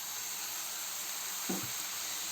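Tomatoes tipped into a pan of lightly sautéed peppers, a steady bright sizzle with a brief soft thump as they land, close and even throughout, no talking.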